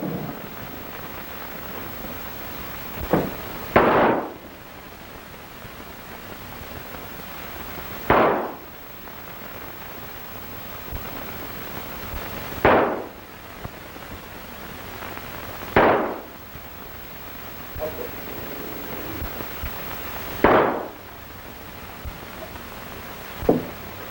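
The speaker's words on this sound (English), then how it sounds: "Hey, that's some shooting, partner." Gunshots ring out in a saloon shootout in an old western film: five or six sharp, loud reports spaced a few seconds apart, each trailing off into echo over a hissy old soundtrack.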